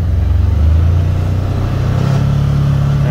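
A 2021 Can-Am Commander UTV pulling away from a stop, its engine droning low and steady with a rising pitch, loud and close, with a vibration from the driveshaft fault.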